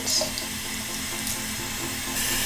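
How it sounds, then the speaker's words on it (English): Lukewarm water running steadily from a bathroom tap into a sink, a constant hissing splash with faint handling noises, close and moderately quiet. "First thing you want to do is make sure that you have lukewarm water."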